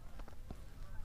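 A few faint Canada geese honks sound from a flock flying over treetops in Kansas, short distant calls over steady outdoor background noise.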